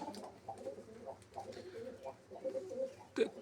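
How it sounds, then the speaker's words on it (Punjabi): Low, rhythmic cooing of pigeons repeats throughout, with soft murmuring layered together and a brief louder flutter near the end. "ਕਬੂਤਰ ਆਪਣੇ ਬਿਲਕੁਲ ਤੰਦਰੁਸਤ ਆ"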